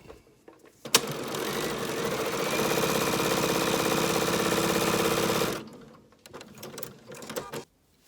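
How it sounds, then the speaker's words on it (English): Sewing machine stitching a half-square triangle template, a steady loud mechanical whir running for several seconds, then stopping, followed by light handling clicks. "it's possible to sew more than one without breaking the thread"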